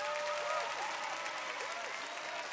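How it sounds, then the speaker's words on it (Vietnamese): Large studio audience applauding at a Vietnamese televised talent show, a dense steady wash of clapping with gliding tonal music or effects running over it throughout. "Một lần nữa, một tràng pháo tay thật lớn để chào đón tất cả quý vị."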